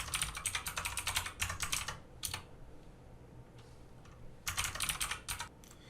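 Quick bursts of keystrokes on a computer keyboard as a password is typed, two clusters of brisk, close clicking separated by a quiet pause, with no voices.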